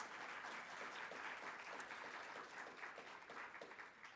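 An audience claps together in sustained, dense applause that stays steady and fairly distant for a few seconds, with no talking.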